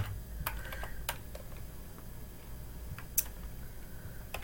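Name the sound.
typing a search query on a computer keyboard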